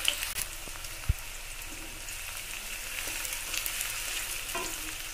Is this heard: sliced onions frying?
yes